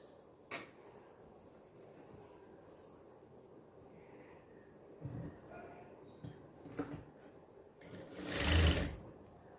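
A sewing machine stitches the back neck of a blouse in quiet, short bursts with soft clicks, ending in a louder rush of stitching near the close. No one speaks.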